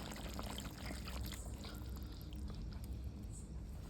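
A cornflour and water mixture is poured into chilli chicken cooking in a pan, making a soft, steady, continuous liquid pour with a faint sizzle for a few seconds, close by and quiet.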